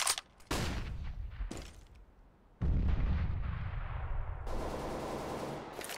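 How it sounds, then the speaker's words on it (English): A flashbang grenade goes off in a Counter-Strike: Global Offensive competitive match on de_mirage. Loud, sharp bangs and bursts of gunfire-like noise are followed by a sustained roar that drops briefly, then returns even louder. "Throwing flashbang."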